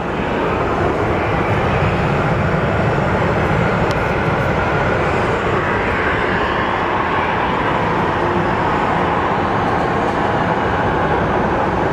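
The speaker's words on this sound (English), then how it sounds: "So we have American 1998 going to LAX." American Airlines airliner departing Phoenix Sky Harbor for LAX, a steady, loud broadband jet roar filling the whole stretch without pause or talk.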